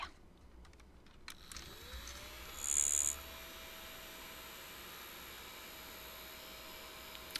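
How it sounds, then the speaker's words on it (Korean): A homemade electric fan built in a high school invention class, blowing air through a container and out a thin slit, whirs up to speed and then holds a steady motor whine over a constant airy hiss, with no talking. "조용한 선풍기는 아니네요."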